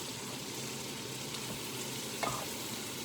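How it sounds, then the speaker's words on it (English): Curried turkey with red pepper, butter and herbs stirred in a hot pan, a steady close sizzle of frying with a brief scrape of the utensil near the end. "you also want to give that a good stir as well"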